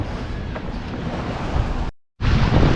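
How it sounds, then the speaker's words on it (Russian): Sea waves along a bay shore rushing and breaking with a loud, continuous roar mixed with wind buffeting, cut by a short silent gap before the surf resumes. "Волны поднимаются."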